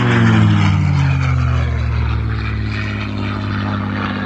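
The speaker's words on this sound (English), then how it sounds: "Listen to the sound of the Packard-built Merlin engine on the Mustang." A Packard-built Merlin V12 engine powers a P-51 Mustang through a low pass at an airshow at Willow Run Airport, a loud, steady, deep propeller drone whose pitch slowly falls as the fighter passes and recedes.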